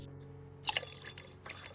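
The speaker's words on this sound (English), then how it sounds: "We'll dilute it with 500 milliliters of water." Water is poured into orchid fertilizer to dilute it, a faint trickle and splash of liquid into a container with a few dripping, gurgling bursts, close and quiet against low background hum.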